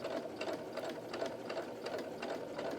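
A domestic sewing machine stitches steadily at close range, its needle producing a fast, even rhythmic chatter that continues unbroken for about three seconds, with no talking.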